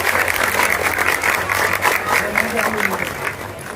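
Loud, steady applause from a crowd at a mass wedding ceremony fills the whole stretch, dense and continuous without a break.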